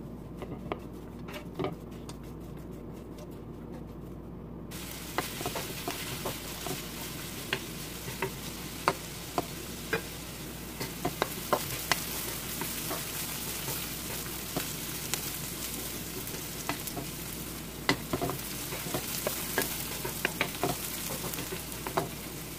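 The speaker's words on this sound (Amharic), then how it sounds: "በመጀመሪያ ሽንኩርቱንና ካሮቱን በዘይት ተጠብሰዋለሁ" Onion and carrot fry in oil with a soft, steady sizzle, punctuated by light taps and scrapes of a spoon stirring throughout.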